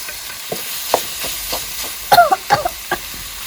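Minced pork stir-fried with holy basil in a pan over a home charcoal stove, faint background sizzle with a few scattered spatula taps and scrapes, soft and intermittent.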